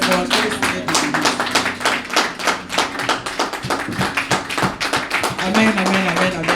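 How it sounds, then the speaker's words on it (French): A church congregation applauds the Lord during a French-language sermon, producing loud, sustained clapping from many hands filling the room with dense, continuous rhythmic bursts, with faint background voices mixed in. "Acclamons très fort le Seigneur."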